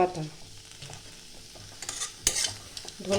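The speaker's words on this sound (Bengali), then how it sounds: "আর একটু নাড়াচাড়া করে আমি নামিয়ে নেব" Mashed potato with fried spice mix and coriander leaves is stirred in a frying pan, a soft sizzle broken by scraping spatula strokes and one louder clatter, with no one talking.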